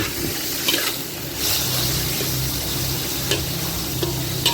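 Shrimp and squid stir-fry in a hot pan with garlic for a Thai curry-powder squid dish, a steady moderate sizzle with occasional stirring scrapes and clinks, no talking.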